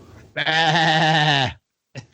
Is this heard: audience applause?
no